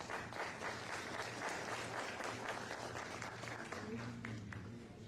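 An audience applauds at a panel discussion, a dense, steady wash of clapping from many hands that tapers slightly at the end, with a voice faintly audible underneath.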